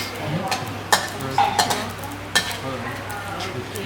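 Coriander and cumin seeds dry-roast in a pan for Thai curry paste, with a soft rustle and light sizzle punctuated by sharp scrapes and clinks of a utensil against the metal, while people talk nearby.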